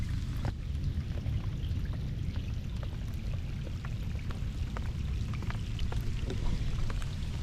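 Rain pattering on a small plastic boat during a passing storm, a steady dense wash of drops with scattered sharper ticks on the hull, continuous and moderately loud throughout, no voices.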